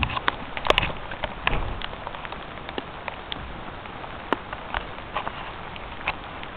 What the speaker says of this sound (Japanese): 恵みの雨が降ってるね。